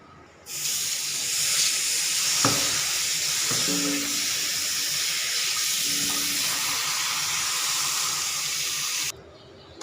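A kitchen tap runs steadily, filling a basin to soak vegetables in salted water, a loud continuous hissing gush lasting several seconds before it cuts off, with a few faint clinks underneath.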